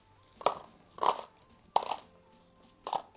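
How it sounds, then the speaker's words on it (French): Coins dropped one at a time into a small cup, four separate clinking landings with short ringing metallic tails, close and clear. "on rajoute des pièces de monnaie"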